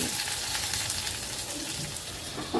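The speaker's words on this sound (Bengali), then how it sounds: "দিয়ে সব কিছু আবারও ভালো করে একটু ভাজা ভাজা মতো করে নিচ্ছি" Potato and pumpkin pieces fry in a pan with a steady, close sizzling hiss that runs throughout without a break.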